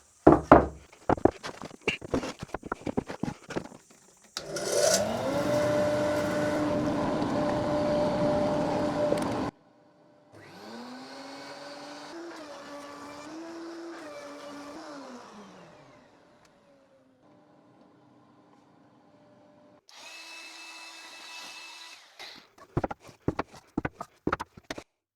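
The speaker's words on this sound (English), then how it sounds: "let's get the planing" Wood planer working pallet wood: loud bursts of high-pitched machine whine with cutting noise, separated by quieter motor hum and short clattering knocks at start and end.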